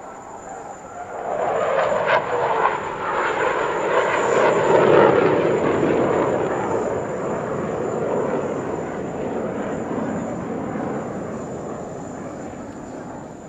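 Formation display jets at the 2023 Dubai Airshow roar past loudly; the sound swells quickly, peaks mid-pass and slowly fades into a long, distant rumble.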